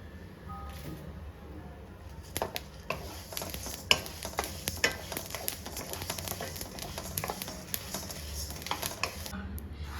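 Millet dry-roasting in a pan for laddu, producing faint scattered ticks and light scraping clicks over a low background hum, irregular and soft, with a few sharper taps and no talking.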